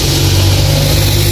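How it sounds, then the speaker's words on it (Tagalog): Steady engine rumble of cars on a busy road, a continuous loud low drone with a revving edge, close by and without talk. "So ang ingay ng mga sasakyan mga kapars, no?"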